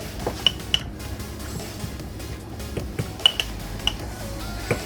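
Ingredients for a breakfast meal prep being mixed in a bowl, with scattered clinks of utensil against dish and soft squishy stirring at close range; no talking.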